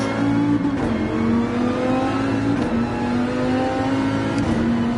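A Viper race car's engine revs steadily at Daytona in Gran Turismo 7, a loud, continuous high-pitched drone that holds and climbs slightly, with no voices.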